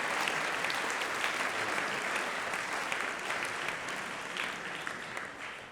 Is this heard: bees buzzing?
no